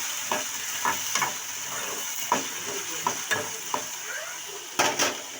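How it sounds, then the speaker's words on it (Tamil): Quarter kilo of potatoes sautéing in hot oil for a South Indian potato fry, a steady close sizzle broken by a scattered series of scraping stirs, with no talking. "நல்லா வதக்கிடலாம்"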